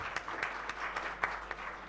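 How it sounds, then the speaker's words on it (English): A conference audience at an eCommerce user-experience event gives a round of applause, a brief burst of scattered clapping with a few sharper individual claps standing out. "Please give a big round of applause"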